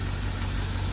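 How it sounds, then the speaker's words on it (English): A Land Rover Defender 90 50th Anniversary with a 4.0-litre V8 and automatic gearbox idles warm on its standard exhaust, a steady, even low rumble that holds constant throughout without a break. "a quick video of the engine running nice and warm on this Land Rover Defender 50th"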